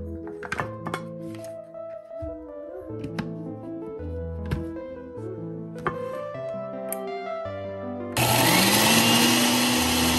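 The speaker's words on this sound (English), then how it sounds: "I'm going to blend them and then make them into onion powder" After several seconds of tonal background music, a blender kicks on to grind dehydrated onions into powder: a loud, steady whirring roar with a motor whine that climbs in pitch.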